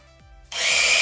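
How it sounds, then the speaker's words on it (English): Electric spice grinder spins up on turmeric, a loud steady high-pitched whirring that starts abruptly after a moment of quiet and holds on. "Now I'm going to grind because I want it finely grind."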